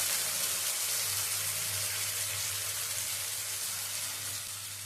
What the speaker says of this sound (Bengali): গ্রেট করে নেওয়া আদাটা একটু তেলে ভালো করে ভেজে নেব।